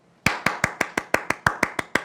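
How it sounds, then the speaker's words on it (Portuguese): About eleven sharp, evenly spaced handclaps come from a single person during a second-grade class, close and crisp, with no other sound between them. "eu quero palmas para a nossa leitura de hoje."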